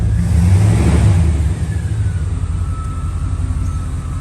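A 1989 Chevrolet Suburban engine idles with a low, steady rumble, slightly louder at the start and then settling into an even hum.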